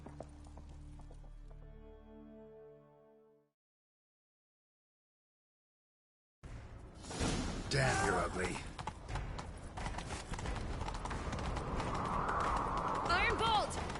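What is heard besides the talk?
horse galloping in a video game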